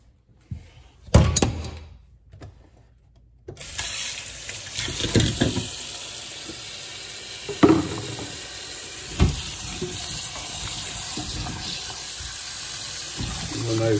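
Potatoes fry in a pan with a continuous sizzle, broken by a few louder clanks and stirring knocks after a quiet start.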